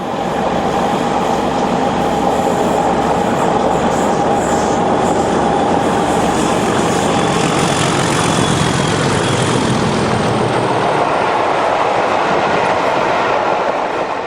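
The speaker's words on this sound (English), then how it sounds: "The Metropolis Meanderer rounds the curve at Hatton on the penultimate leg of the tour from Acton to Nuneaton" A charter train from Acton to Nuneaton rounds the curve at Hatton, a loud, steady rumble of wheels and engine rolling past without break, slowly fading toward the end.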